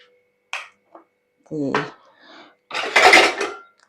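A metal kadai is set down in a home kitchen, giving a few short clanks and a brief metallic ring, with a voice speaking around them.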